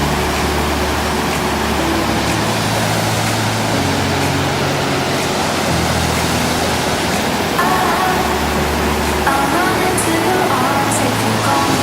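A waterfall roars as a loud, steady, dense rush of falling water that fills the whole scene without a break.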